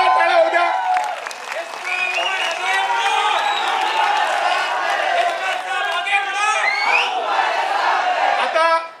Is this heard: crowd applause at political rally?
yes